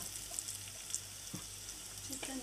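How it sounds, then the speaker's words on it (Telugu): Ground mango chutney frying in a hot tempering of spices, a soft steady sizzle with faint crackles, a brief stir scrape midway, heard close and fairly quiet with no talking. "కొద్దిగా పోపు వేగిన తర్వాత అందులోకి మనం ముందుగా రుబ్బి పెట్టుకున్న పచ్చడి వేసి వేపుకోవాలి"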